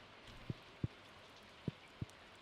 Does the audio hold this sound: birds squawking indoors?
no